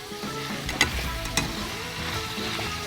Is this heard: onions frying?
yes